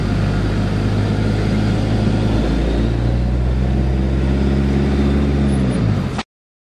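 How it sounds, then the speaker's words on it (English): Homemade go-kart powered by a 450 Honda motorcycle engine, running steadily and loudly with a low, rumbling drone that shifts pitch partway through before cutting off abruptly near the end. "building my second go-kart from scratch with a 450 Honda motorcycle engine"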